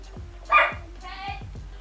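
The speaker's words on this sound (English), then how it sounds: "this dog, while he's barking" A dog barks a couple of times nearby, short sharp yips over a faint background, with a person's voice mixed in.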